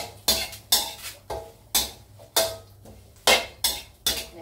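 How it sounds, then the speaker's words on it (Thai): Lemongrass, kaffir lime leaves and fresh chilies are dry-roasted in a pan, with a steady series of scraping, clattering stirs of a utensil against metal, about two per second, close and fairly quiet. "ตะไคร้ใบมะกรูดลงไปคั่วพริกสดด้วยจะได้ไม่เหม็นเขียวเอาลงไปคั่วด้วยกันเลยค่ะคั่วให้หอม"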